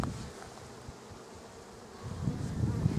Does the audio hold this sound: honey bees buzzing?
yes